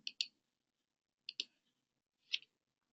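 Mouse clicks while approving an expense report in software: two quick double-clicks about a second apart, then a single sharper click, close and crisp against near silence.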